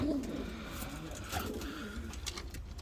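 Pigeons coo softly in low, throaty murmurs, fairly quiet against faint background noise.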